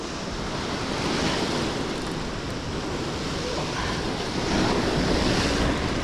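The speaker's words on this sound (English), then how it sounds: "we need to get away from this wave" Ocean surf washing onto a rocky shore during shore jigging for bonito, a steady loud roar of breaking waves with wind buffeting the microphone and no voices.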